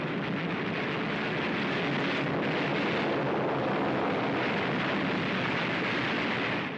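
Dense, roaring barrage of anti-aircraft gunfire aimed at an attacking bomber, a continuous loud wash of blasts and rumble with no pauses.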